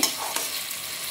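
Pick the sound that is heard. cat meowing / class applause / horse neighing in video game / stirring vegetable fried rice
stirring vegetable fried rice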